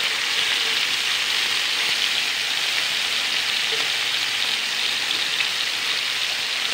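Marinated pork tapa fries in a pan until browned, a dense, even, continuous sizzle like steady rain, close and unbroken for the whole stretch, with no one speaking.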